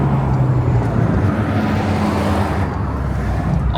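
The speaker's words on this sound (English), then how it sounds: "awesome GT3 touring that just drove by Arctic Grey with red interior" Arctic Grey Porsche GT3 Touring passing by outdoors, a steady broad rush of engine and road noise with wind buffeting the microphone, holding a fairly even loudness before easing slightly toward the end.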